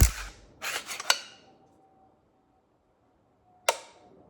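Trigger of a CMMG Dissent Mk47 rifle in 7.62x39mm with a 14.3-inch barrel, dry fired: a cluster of sharp metallic clicks of the reset and release up close, then silence and one crisp snap of the dry fire.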